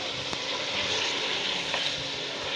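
Garlic-ginger paste sizzles in hot oil in a pan while chicken qorma is being cooked, giving a steady, close, dense frying hiss with no voices.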